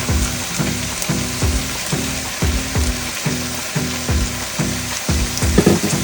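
Onions, butter, ginger, cinnamon stick and spices frying together in a pot for Moroccan chicken couscous, a loud steady sizzle pulsing in a regular rhythm like rain, with no talking.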